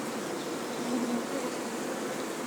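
Bees hum steadily in a flowering linden tree, a dense, continuous drone of many insects close by with no pause across the short stretch, and no voices.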